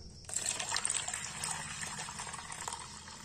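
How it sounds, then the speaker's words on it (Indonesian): Water pours steadily into a container for a few seconds, a close, bright splashing gush that begins abruptly and continues without pause. "ini kita masukkan airnya"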